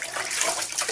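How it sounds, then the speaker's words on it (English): Water being poured into a can of masonry mix, a brief close, hissing rush of liquid heard on its own. "And I put a little bit of water in it."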